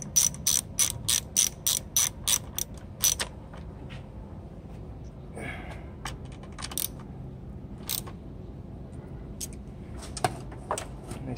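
Ratchet wrench tightening a car's alternator cable, a quick rhythmic burst of close clicking strokes followed by scattered clicks and small metallic handling noises, quiet with no talk.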